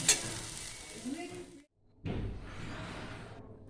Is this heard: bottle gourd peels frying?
yes